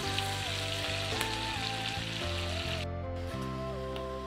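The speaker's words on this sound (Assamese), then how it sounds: "এইখিনি গোল্ডেন ব্ৰাউন কালাৰ হোৱালৈকে অকণমান এনেকৈ ফ্ৰাই কৰি ল'ম" Small fish fry in oil until golden brown, a dense steady sizzle and crackle heard close up, with faint background music layered underneath and no voices.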